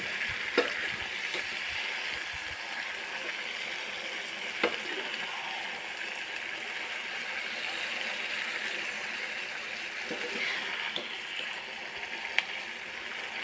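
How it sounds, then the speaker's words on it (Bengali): Marinated country duck pieces sautéing in spices in a pan, a steady, dense sizzle and gurgle running throughout with a few faint clinks, no talk over it. "প্রায় আধা ঘন্টা কষাবো মাংসটা"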